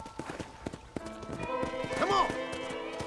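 Horse hooves clip-clopping and a whinny in the Western game Red Dead Redemption, with the neigh rising about two seconds in while a voice speaks throughout.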